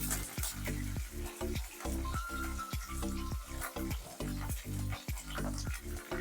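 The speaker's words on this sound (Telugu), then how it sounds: "ఇవన్నీ ఒక 2 నిమిషాలు ఫ్రై చేద్దాం" Onion, carrot, green chili and cashews fry in oil in a pan for poha, a loud close sizzle with rhythmic scraping strokes of a spoon stirring about twice a second throughout.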